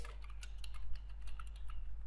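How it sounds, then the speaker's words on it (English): Typing on a computer keyboard: quick, light key clicks in an irregular rhythm, close by, over a steady low electrical hum. "here I'm just typing amount"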